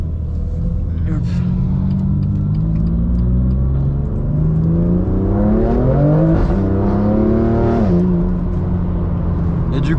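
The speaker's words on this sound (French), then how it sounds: "elle fait tellement de bruit sa voiture" A loud car engine revs and drones from inside the cabin during a night drive in a BMW M2 CS, its pitch climbing and falling with acceleration over a constant heavy rumble.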